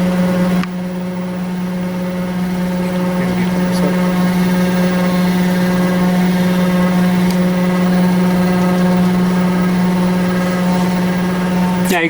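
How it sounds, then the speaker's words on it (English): A CNC hot wire foam cutting machine running Mach 3 software and slicing 2-pound foam panels gives a steady, loud mechanical hum with constant tonal whine, unbroken throughout. "Now you can see the wire's hot and it's cutting the foam."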